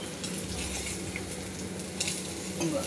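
Stuffed bitter gourds sizzle in oil in a pan after being flipped, giving a steady, close hiss with a few faint clinks of a utensil and no talk.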